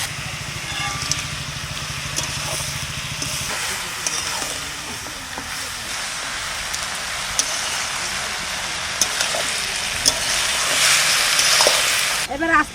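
Taro greens and soybean go into a hot pan, setting off a steady, broad sizzle and frying hiss with faint stirring scrapes and clinks throughout, moderately close.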